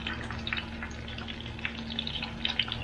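Tomatoes go into a hot pan with marinated meat and vegetables, frying with a steady soft sizzle and faint crackles throughout, fairly quiet and close, with no talking.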